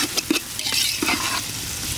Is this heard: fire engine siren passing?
no